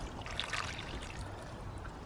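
Water is poured into the planting holes around newly set leeks in garden soil, a soft splashing trickle rising briefly near the start and then settling to a quiet, low background.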